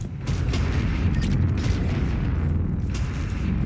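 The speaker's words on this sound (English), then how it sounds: "those sounds like main cannons" Main cannons firing in the video game Mass Effect 3, a dense rumbling barrage of booms rolling continuously and loud, with no voices.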